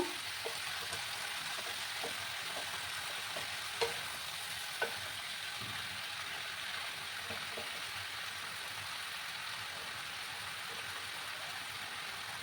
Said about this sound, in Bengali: এবার একটু লাল করে আমি ভেজে নেব।